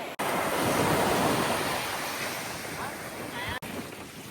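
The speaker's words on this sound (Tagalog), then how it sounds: "napakalakas ng hangin at tataas na ng alon" Strong wind roars over the microphone with the wash of waves at the coast of Zambales, Philippines, a loud continuous rush broken by two brief dropouts.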